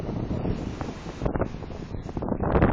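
Roaring 60 mph wind gusts over stormy seas, a fairly faint, ragged broadband buffeting that swells and dips in quick gusts, with no voices.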